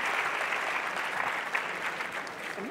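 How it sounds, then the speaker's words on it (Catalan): An audience at a school conference session in Catalonia gives a round of applause, a steady, dense wash of many hands clapping evenly throughout. "Un aplaudiment, sisplau."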